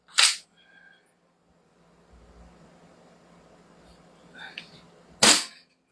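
Toy cap gun firing two sharp, loud single shots about five seconds apart, with quiet handling noise and faint clicks in between.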